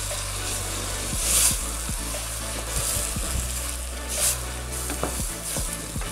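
Beans sizzling and crackling in a hot pan, close up, with scraping stirs and occasional louder spits over a steady frying hiss.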